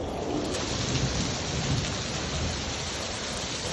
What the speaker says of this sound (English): I'm gonna try and show everyone how it's crazy raining out here.